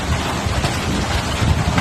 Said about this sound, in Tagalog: Dami pong lakas po ng ulan.